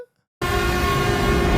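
A loud, sustained horn blast from a Japanese bullet train, the Hayabusa, in a movie trailer bursts in after a brief silence, holding steady and dense with rumbling low tones throughout.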